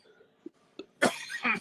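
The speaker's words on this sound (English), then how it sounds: "I'm coughing a little bit." A few small throat sounds, then a loud burst of coughing, close and harsh, with two or three rough coughs in quick succession.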